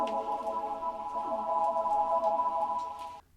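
Sustained synth chords run through a granulator, saturation, compression and reverb, glassy stacked tones with a shimmering, fluttery grain texture and soft swells that hold steadily before cutting off.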